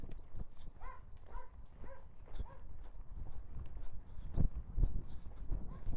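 Horse hooves thudding at a lope in an arena, a quick uneven rhythm of soft close footfalls, with a brief dog bark or animal call early on and no clear talk.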